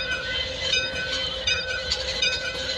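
A train enters Chattogram station platform in the Bangladesh Train Simulator video game, with a continuous rolling rumble and rhythmic wheel clatter close by, faint squeals and steady engine drone throughout.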